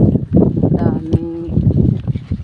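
A water buffalo's low moo rises briefly out of a noisy outdoor background with chickens about, close and fairly loud, a single drawn-out call.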